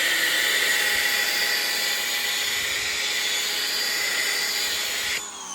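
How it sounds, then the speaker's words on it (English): Ryobi 1800 pressure washer spraying through a Maxshine foam cannon, a loud, steady hissing rush with a motor hum underneath, cutting off abruptly near the end. "let's go ahead and hook this thing up to a Ryobi 1800"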